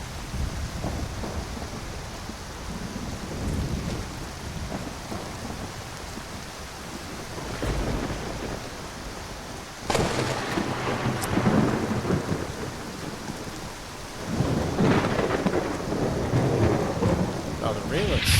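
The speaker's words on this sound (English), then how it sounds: "oh, the rain looks pretty good" Steady rain pours down in the video game Skyrim, with rolling thunder rumbling in the background, growing louder in heavy surges partway through.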